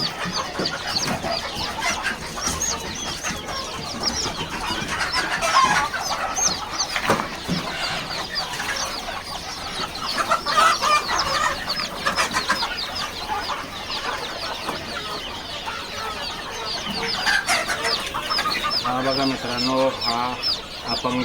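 Village hens on a chick-rearing farm, cluck continuously and close by near their chicks, with a busy overlapping stream of clucks and faint chirps against a constant background hum.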